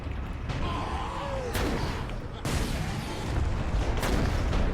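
Grenades blast in the video game Warhammer 40K Space Marine, a few heavy booming explosions landing in quick succession over dense battle noise.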